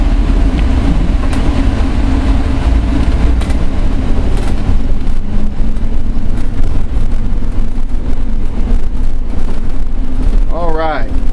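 A 2003 Fleetwood Pace Arrow Vision motorhome drives forward with a loud, steady broadband rumble of engine and road noise. The rumble continues unbroken, with a brief rising whine near the end.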